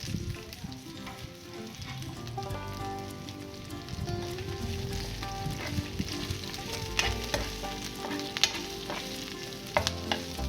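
Green chili, dry red chili and capsicum frying in a pan, a steady crackling sizzle throughout with scraping stirs and a few sharper pops near the end; no one speaks.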